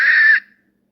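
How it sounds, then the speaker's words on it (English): Owl-attacking-crow call played from the iHunt game call app on a phone: a single harsh, loud distressed crow squawk lasting under half a second, then silence. "Owl cripples crow."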